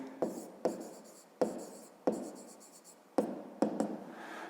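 A math answer is handwritten on paper in a series of short, distinct scratchy strokes and taps, close and fairly quiet, arriving in irregular bursts with brief pauses between them.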